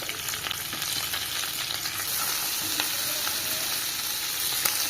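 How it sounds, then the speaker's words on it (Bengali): Crabs frying in hot mustard oil give a steady, dense sizzle with crackling pops throughout, close and continuous, with no voices. "কাঁকড়া তেলের মধ্যে"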